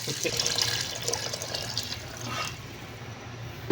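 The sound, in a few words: water being poured into cooking pot of chicken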